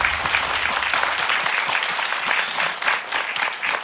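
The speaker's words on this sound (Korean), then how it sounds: "우리 제인 씨께 큰 박수" Loud, dense applause from a studio audience after a talk segment with a Christian guitarist, many hands clapping continuously and close throughout with no speech.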